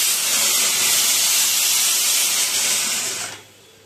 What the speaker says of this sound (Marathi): एक शिट्टी झाली आहे.